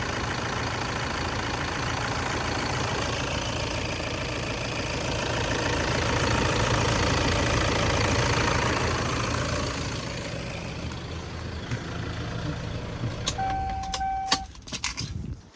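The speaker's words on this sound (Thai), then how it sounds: "มาฟังเสียงเครื่องที่ว่าเสียงเครื่องดีมากดีสุดๆครับ" A 2003 Toyota Sport Rider 3.0 diesel engine idles steadily with a rough, clattering rumble, close by, then quiets near the end as a few faint clicks come through.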